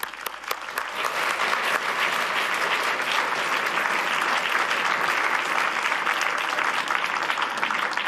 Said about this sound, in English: So a big applause to President Ursula von der Leyen.